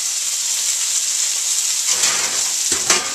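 Venison steaks fry in a pan with a steady close sizzle and hiss throughout, with a couple of louder crackling bursts near the end as the meat shifts.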